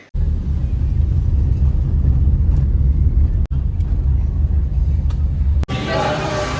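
A motorcycle on a road test ride, recently repaired after an accident, rumbles steadily and loudly with heavy wind buffeting, broken by two brief dropouts near the end.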